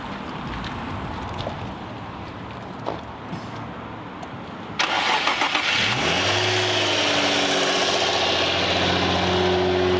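A flood-damaged car's engine cranks and fires up, then settles into a steady, fairly loud idle with a low rumble.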